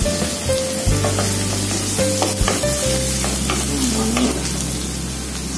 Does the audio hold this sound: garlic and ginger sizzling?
yes